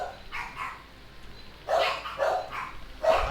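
Dogs barking: a couple of soft barks first, then a louder run of sharp, close barks in quick groups.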